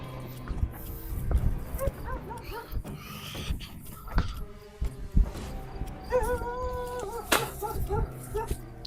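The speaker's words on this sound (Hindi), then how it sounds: "कुत्ता क्यों भौंक रहा है यार?" A dog barks and whimpers intermittently, fairly close, at night outdoors while people talk over it in low voices and move about.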